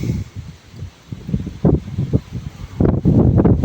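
Gusty wind buffeting the microphone in uneven rumbling bursts, growing stronger toward the end.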